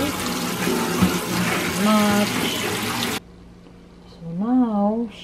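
Water pours into a baking dish of chicken, a steady splashing stream that cuts off abruptly partway through, with a person speaking over it and then briefly afterward.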